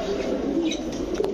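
Fancy racing pigeons (Giribaz breed) in a shop, a soft low cooing close by that rolls on continuously under faint background noise, with no speech.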